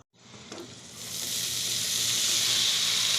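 Finely chopped bottle gourd peel drops into a hot pan, and a loud sizzle builds quickly and holds steady as steady hissing frying with no voices.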